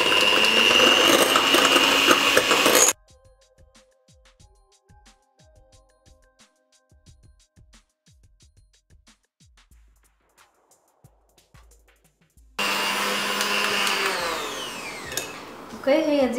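An electric mixer whips egg whites as sugar is added gradually: a loud, steady whirring drone opens and closes the passage, with a long quiet stretch of faint ticks and clicks between.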